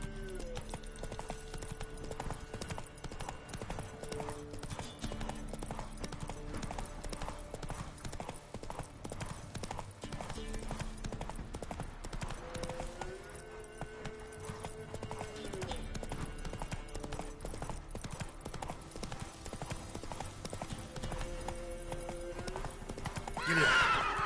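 Geralt's horse Roach gallops in The Witcher 3: Wild Hunt, its hooves clip-clopping in a steady rhythm. Occasional whinnies rise over the hoofbeats, with game music underneath.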